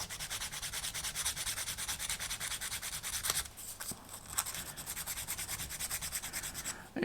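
Medium-grit wet and dry paper rubs steadily across small parts for a wooden Vanguard Models HM Sherbourne ship kit, a close, continuous scratchy hiss with short strokes and brief pauses near the middle.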